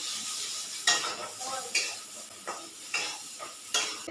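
Pointed gourd curry is stirred in a pan with salt while it fries, a spoon scraping in regular strokes about every second over a steady close sizzle.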